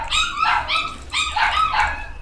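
A pet puppy barks and yips in two quick bursts, high-pitched and close, with a short pause between them and no talking over it.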